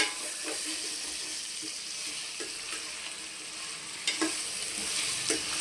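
Amaranth stems cooking in oil for a tamarind stew, a continuous close sizzle with occasional sharp clinks and scrapes as they are stirred now and then.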